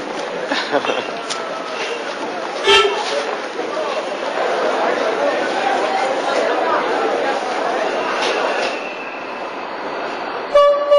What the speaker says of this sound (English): I'm taking the night train from Cairo to Aswan.